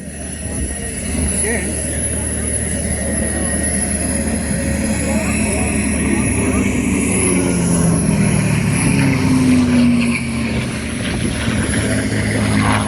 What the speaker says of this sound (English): coming in from your left, the North American P-51 Mustang